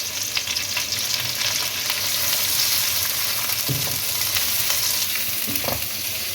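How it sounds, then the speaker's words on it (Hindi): Thick-sliced onions fry in hot oil in a pan, a steady loud sizzle throughout with a few clunks of stirring near the end. "हल्का सा ही प्याज को बस आपने फ्राई करना है।"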